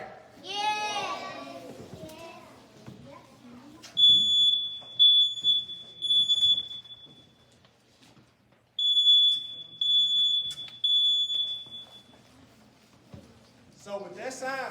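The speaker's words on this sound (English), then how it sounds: "So with that sound, it indicates that there's smoke in the house." A smoke alarm sounds in bursts of piercing high beeps in a classroom setting, with two separate sequences of repeated chirps and someone talking before and after them.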